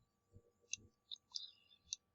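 Computer mouse clicks while working in Rhino 3D software, a few faint, sharp, isolated clicks in pairs spread across a quiet background.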